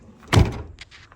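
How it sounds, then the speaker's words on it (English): A van door slams shut with a single solid thunk at a campsite, followed by a few faint clicks and rattles. "So make sure the doors are shut."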